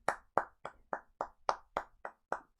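Hands clap about ten times in a quick, steady rhythm during an informal clap ceremony. Each crisp slap rings out separately, close and clear, with no talking in between.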